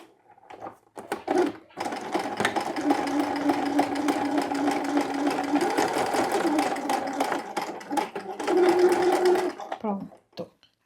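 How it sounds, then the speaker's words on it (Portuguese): A sewing machine stitches a seam on fabric for a children's pajama, running in a continuous fast rhythmic whir for about eight seconds, close and clear, stopping briefly near the end. "E vou passar uma costurinha."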